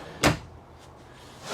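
A single short knock of a drawer or cupboard sliding shut inside a 2021 Heartland Torque fifth-wheel camper trailer, close and brief in a quiet room.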